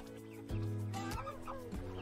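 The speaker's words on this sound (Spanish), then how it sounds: "Una gallina polaca y una Houtan moteada por aquí." A Polish hen and a speckled Houdan chicken cluck in a coop, repeated close, throaty clucks and soft squawks in an uneven rhythm.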